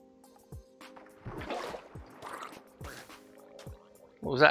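Buckets being filled with water in Minecraft: a few soft sloshing, dripping liquid splashes spaced over a few seconds, low and close, mixed with faint game ambience and no clear speech.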